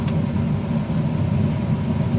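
A car engine idles at a steady low rumble with a deep, strong exhaust note, constant and close, with no talking over it.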